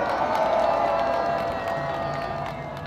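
Crowd applause and cheering from a gathered audience, a steady broad wash of clapping mixed with some shouts, fairly loud and sustained throughout without a clear break.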